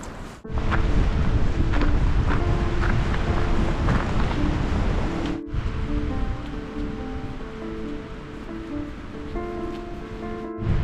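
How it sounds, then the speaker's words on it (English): Loud, constant roaring gusts of cold wind buffet the microphone on the Pinhoti Trail, a heavy rushing blast that barely lets up, with a brief break partway through. "The wind is blowing like crazy."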